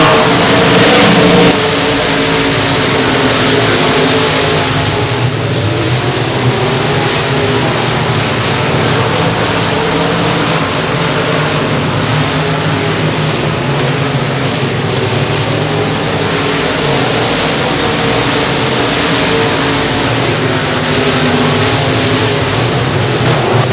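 Race cars roar through the turns at Boothill Speedway, a dense, continuous engine drone with steady revving that fills the whole stretch without letup, loud and close.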